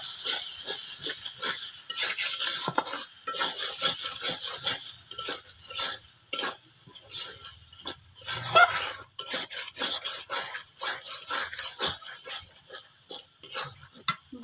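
Chicken being stirred and sautéed with turmeric in a pot, a steady sizzle and hiss with repeated scraping strokes of a spoon, close and continuous.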